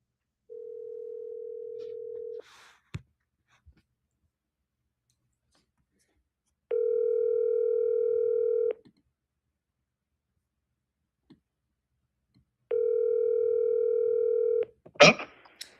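Telephone dial tone heard while placing a call, sounding as three steady tone bursts of about two seconds each, separated by silence, with a few clicks between them and a sharp click at the end.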